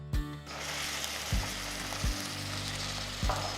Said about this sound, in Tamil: இந்த ஸ்டேஜில் நான் 2 டீஸ்பூன் இஞ்சி பூண்டு பேஸ்ட் போடுறேன்.